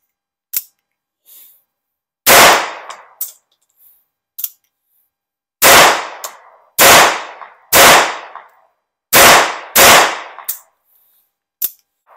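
A Beretta 950BS Minx pistol fires .22 short rounds at a range, several sharp, loud close shots spaced a second or so apart, with fainter clicks and handling noises in between.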